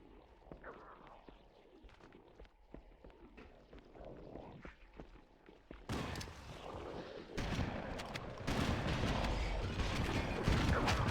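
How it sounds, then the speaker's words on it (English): Shotguns fire during a Halo 1 firefight on Legendary difficulty. Quiet clicks and shuffling give way to a dense run of loud, close blasts in rapid succession. "Oh god, that's a lot of shotguns."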